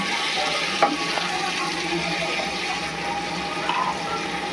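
Mutton pieces go into a pot of thin gravy for akhni mutton biryani, making a wet, bubbling sizzle with soft sloshing and a couple of small knocks close by.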